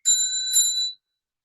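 A meditation bell rings twice in an evening practice hall as the signal to bow, each strike clear, bright and close, with a sustained shimmering tone that fades out after about a second.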